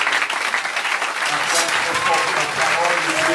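A congregation at a French-language church service applauds and cheers, the continuous clapping swelling with raised voices and shouts partway through.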